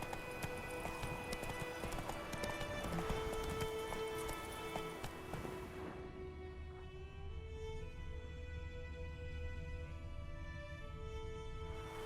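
Roach the horse galloping in The Witcher 3: Wild Hunt, a steady, fast rhythm of close hoofbeats that runs throughout, with a brief whinny, over layered game music that thins out midway.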